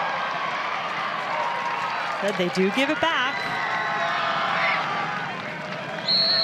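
A stadium crowd at a North Carolina vs. Duke college women's soccer match in Durham keeps up a steady, loud roar of cheering and chatter throughout, with a commentator speaking briefly over it.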